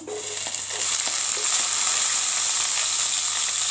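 Crushed garlic frying in hot oil in a pan, a loud, steady hiss that swells after a few faint stirring taps at the start, close and alone.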